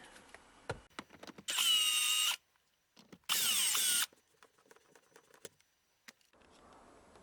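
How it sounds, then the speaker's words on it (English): Two loud bursts of a power drill whirring for about a second each while removing Phillips screws from a BMW E34 pedal box cover, separated by a pause, with scattered clicks and handling noises around them. "Couldn't reach the third with the drill, so gotta get him by hand."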